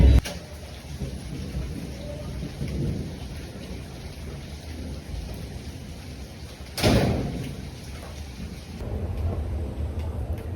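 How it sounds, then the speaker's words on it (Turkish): Steady rain hisses throughout in Brazil, with a low rumble of thunder near the middle and a fainter roll toward the end. "Biraz yağmur yağdı."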